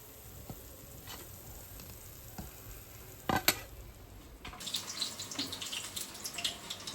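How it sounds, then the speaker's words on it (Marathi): Onion bhaji dropped into hot oil and deep frying, a dense crackling sizzle that grows brighter and busier partway through, with a few sharp clinks of a utensil against the pan near the start. "आता मी हे सगळे भजे तळून घेते"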